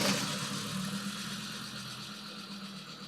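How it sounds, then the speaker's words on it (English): A 1991 Audi 90 quattro 20-valve engine idles smoothly at a steady, even hum heard close by, with a light ticking in the background and no voices. "And now it's actually idling very nice."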